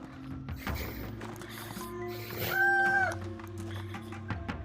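A video game chicken clucks and squawks over a layered synthetic soundscape with steady tones, one rising cry standing out near the middle.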